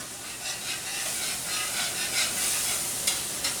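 Whipping cream being stirred into a flour and bacon fat roux gives a steady sizzling hiss with soft scraping strokes of a spoon, close and continuous without any talk.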